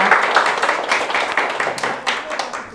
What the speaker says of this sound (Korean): 다시 한번 우리 세 분들께 큰 박수 드리겠습니다